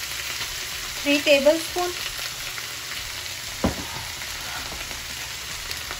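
Dark soy sauce hits a hot pan of chilli chicken with ginger, onion and green pepper, a constant close sizzle with a brief stir clatter while someone speaks briefly.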